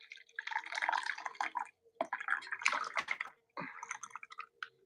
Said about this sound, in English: Let's rinse our cup.